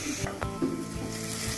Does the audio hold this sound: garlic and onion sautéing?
yes